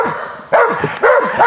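A dog lying down barks during guard training for protecting an item, three loud close barks in quick succession with short gaps between them.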